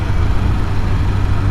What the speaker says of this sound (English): I just blipped down to third gear